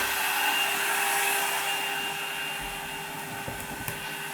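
A DIY CNC machine runs inside a closed noise enclosure, giving a steady, muffled whirring drone with a few faint clicks near the end and no voices.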